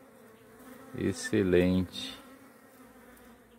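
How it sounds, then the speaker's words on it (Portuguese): Bees buzz around a young corn tassel collecting pollen, a faint steady hum beneath a single short spoken word from a nearby voice. "essas abelhas é uma coisa muito bonitinha"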